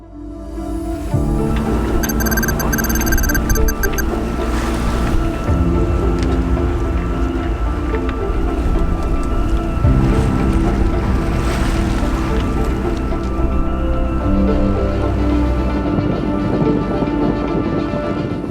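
A sailboat's engine drones steadily and loudly at sea in the English Channel. Wind and waves wash over it throughout, and a faint high whine runs above the rumble.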